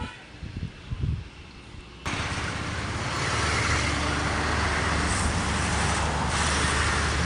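Vehicles on a winding mountain pass road: after a quieter stretch with faint thumps, a loud, continuous roar of passing traffic and engine noise sets in and holds steady.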